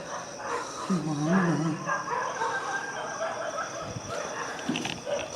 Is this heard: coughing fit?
no